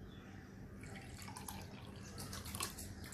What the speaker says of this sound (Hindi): तो मैं इसमें थोड़ा सा ठंडा पानी भी डालती हूँ, नाइस कोल्ड वाटर